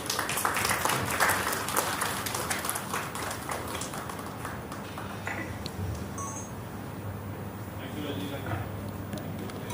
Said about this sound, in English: I now request everyone to please join me applauding our panelists